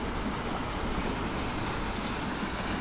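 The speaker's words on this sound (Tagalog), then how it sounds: "Malakas pa yung agos." Strong river current rushing steadily in an unbroken broadband roar, loud and close, with no voices over it.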